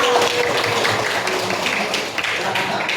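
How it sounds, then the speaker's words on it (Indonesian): Students in a classroom break into a steady round of applause, the clapping continuous and moderately loud, with voices talking over it. "Ya, betul. Tepuk tangan"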